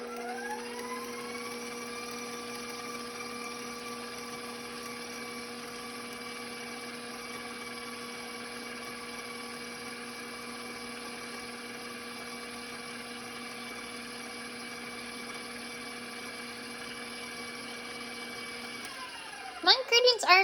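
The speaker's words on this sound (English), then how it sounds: "I'm going to mix this until my ingredients are incorporated with the rest of my ingredients" An electric mixer works chocolate chip oatmeal cookie dough with a steady high-pitched motor whine that spins up, holds evenly for most of the time, then cuts off near the end with a few clattering knocks.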